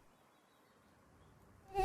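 Mosquitoes buzz faintly in a steady thin whine, swelling louder just at the very end.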